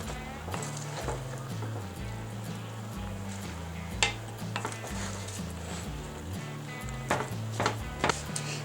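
Ratatouille vegetables of eggplant, zucchini and tomato stirred and folded in a pot, with quiet scraping and a few sharp clanks of a utensil against the pot, over a steady music bed.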